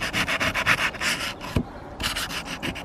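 Close, steady scrubbing strokes rub rust and grime from old garden secateurs behind the cutting bar, a rhythmic abrasive rasp with a short pause midway before the strokes resume.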